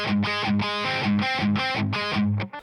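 A distorted electric guitar plays a riff from a song, a tight repeating pattern of palm-muted chugs and ringing chord stabs, close and loud, ending with a short cutoff.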